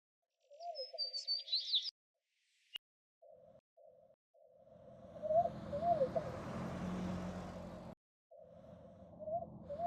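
Birdsong in a video game world: bright chirps and tweets come in short bursts, then run steadily over a low rumbling bed of ambient noise, with brief gaps of near silence.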